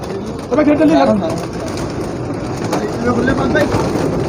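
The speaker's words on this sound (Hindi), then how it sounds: "हमारे उस्ताद अख्तर खान साहब कबूतरों को बाजरा डालते हुए" Pigeons cooing as they are fed millet amid a noisy outdoor background during pigeon flying, with a voice talking intermittently over the birds.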